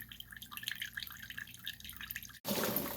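Water draining out of the bucket of an Intexca portable washer with spinner during a rinse, a steady close trickle and splatter of liquid with a brief gap before a louder, fuller rush of flow.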